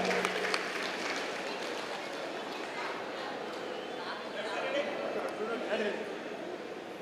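An audience at a Dhone rally keeps up sustained, loud applause, thick and continuous, with a murmur of voices blended under the clapping.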